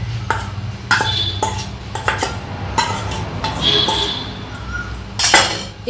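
Ginger, garlic, onion and chili paste being added to a cooking pot, with repeated close metallic clinks and scrapes of a spoon against the pot at an uneven pace.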